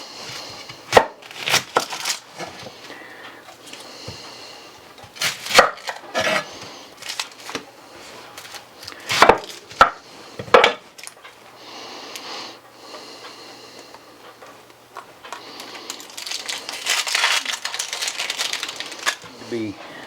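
A knife chops celery on a cutting board while making country chicken and dumplings, giving bursts of quick, sharp knocks separated by pauses, with a speaking voice and kitchen handling noise between the chopping runs.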